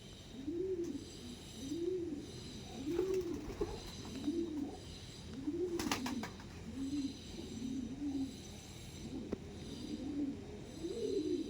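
Andhra pigeons coo in a steady run of rounded, repeating calls, about one every second, fairly close and continuous with no talking.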